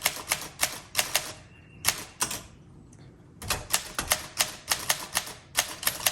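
Keys clack in quick irregular bursts on a 1935 Underwood Universal manual typewriter, each strike sharp and close, with a brief pause in the middle before the typing resumes.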